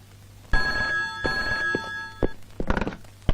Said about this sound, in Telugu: కొత్తది సెల్లో ఫోను